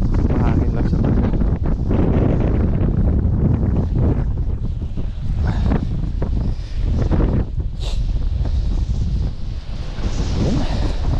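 Strong cold wind buffets the microphone in a steady, loud roar with gusty surges throughout, close and rough, with a brief voice-like murmur faintly underneath.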